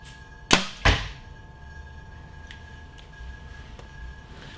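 Two sharp snaps in quick succession, a bow release followed by the thud of an arrow striking a target, then quiet room background.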